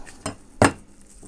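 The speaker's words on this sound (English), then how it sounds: "just chopping off little rolls from a full cigar" A knife chops small rolls off a full cigar, giving two sharp, close thuds against a hard surface, the second louder, with no talking.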